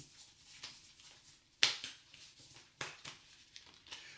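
Soft, crisp riffling and snapping of cards, quiet and close, in quick irregular bursts with brief pauses.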